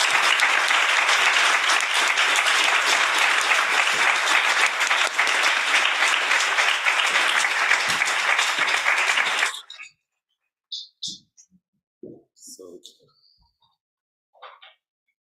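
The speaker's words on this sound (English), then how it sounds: "But before you do, we start with an applause." An audience at an international conference on creative writing pedagogy breaks into loud, sustained applause for about ten seconds, which stops abruptly and leaves a few faint sounds and quiet stirrings.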